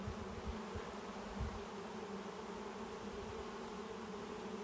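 A colony of honey bees with their queen hums steadily at a hive, a continuous soft buzz with a few low thumps of handling near the start.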